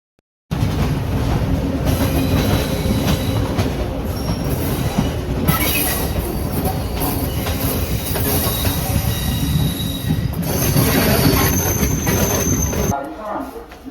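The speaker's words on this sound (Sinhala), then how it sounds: "අපි අපු ට්‍රේන් එක තව පොඩ්ඩකින් ගාල්ල ස්ටේෂන් එකේ නවත්තලා බෙලියත්තට යනවා" A passenger train rolls loudly into Galle station in Sri Lanka, its wheels clattering and squealing on the rails in a steady close rumble from onboard before the noise drops away near the end.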